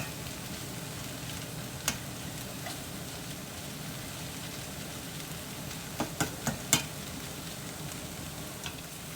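Salisbury steak patties sizzle steadily in a frying pan, a constant close hiss with a few sharp clicks and pops from a utensil near the end, and no talking.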